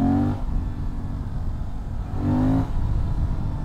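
A Suzuki 800DE motorcycle engine rumbles steadily at low speed, with two short rises in revs that bring a brief tonal swell over the continuous low throb.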